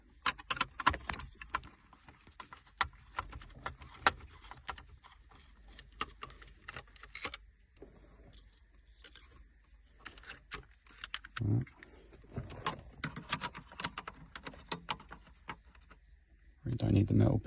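T20 screws are worked loose from the screen frame of a 2013–2017 Vauxhall/Opel Insignia or Buick Regal, making a run of small metallic clicks and rattles, close and fairly quiet, ending in a louder fumbling burst.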